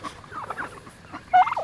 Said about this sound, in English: They make a lot of noise. And these are Harvest Gold's turkeys.